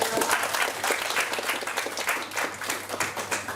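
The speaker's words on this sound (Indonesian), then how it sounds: "Tepuk tangan dulu dong, mahasiswa." University students at an exhibition event applaud in a brisk, continuous burst of clapping that fills the room and holds steady for a few seconds.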